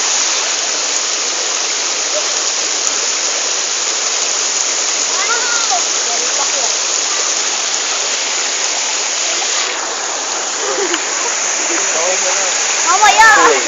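Waterfall at a swimming spot pouring in a steady, loud broadband rush close by, with brief voices of people over the falling water.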